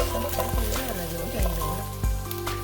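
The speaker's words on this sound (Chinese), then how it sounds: "接着把我们的葱姜蒜加入，继续翻炒，炒出香味儿" Cured pork ribs stir-fried with scallion, ginger and garlic in a wok sizzle steadily, with several sharp clacks of the spatula scraping and turning the pieces.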